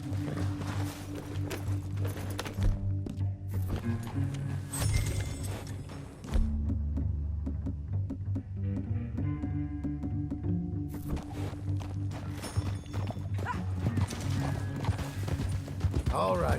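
Horse hooves clip-clopping in Red Dead Redemption 2, a steady gait of thuds running under game music and spoken dialogue, with a brief gap midway before the hoofbeats resume.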